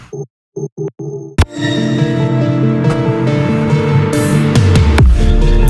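Atmospheric synth pad for a tearout dubstep track, processed through a ShaperBox preset: a few choppy gated stabs, then a loud, dense sustained pad swelling with rhythmic pulsing and rising brightness near the end.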